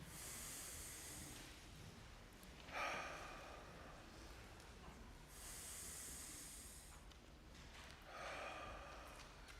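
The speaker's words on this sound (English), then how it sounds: "please breathe with me" Slow, audible breaths drawn in during a guided meditation at a worship service, three long airy inhalations spaced several seconds apart over a quiet room, with no talking.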